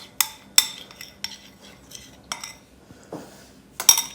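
A utensil scrapes and clinks against a bowl as chocolate fudge icing is beaten together with icing sugar and butter, in sharp irregular strokes of moderate loudness, close up, with no voices.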